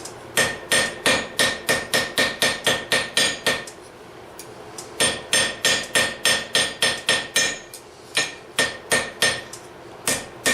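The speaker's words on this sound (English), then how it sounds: "this hammer that I'm using is an NC Cavalry rounding hammer" A blacksmith hammers hot steel hooks on an anvil with an NC Cavalry rounding hammer, striking bright, ringing metallic blows in quick steady bursts of about a dozen, with short pauses between runs, close and loud with no talk.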